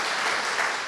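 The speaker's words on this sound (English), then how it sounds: "You can clap." An audience at a Black History Month celebration applauds, a brief, even wash of many hands clapping together at moderate loudness.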